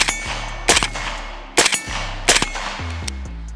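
A suppressed rifle fires rapid bursts in forced-reset-trigger mode, three loud bursts of close, sharp metallic cracks with brief pauses between, then a few quicker single shots near the end.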